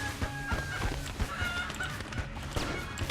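Chickens clucking and squawking in a burst of rapid, overlapping calls during an electric chicken attack in the game Enter the Gungeon, with busy game music and effects underneath.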